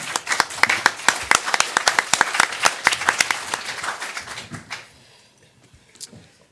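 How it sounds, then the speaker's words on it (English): A small audience claps for a panelist at a school finance panel, distinct individual hand claps in a quick irregular patter, close and fairly loud, that die out after about five seconds into near silence. "Please give a round of applause for him."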